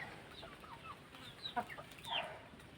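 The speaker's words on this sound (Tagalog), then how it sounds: "medyo dumadami na ulit yung manok natin" Soft, scattered clucks and chirpy calls from a few chickens, fairly faint and at a little distance, over quiet background.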